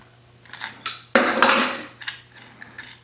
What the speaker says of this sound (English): The only thing I need to do with the scoop is get this nut off here.